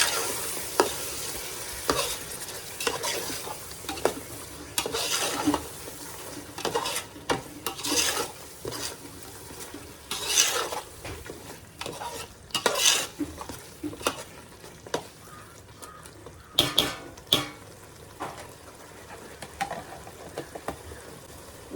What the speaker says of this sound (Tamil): பூண்டு சேர்த்து அதையும் நல்லா மிக்ஸ் பண்ணிக்கலாம்.